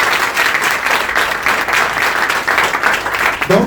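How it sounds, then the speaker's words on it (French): A church congregation bursts into sustained, dense applause, many hands clapping steadily and evenly for several seconds at close range, with a faint murmur of voices beneath. "Acclamons la parole du Seigneur."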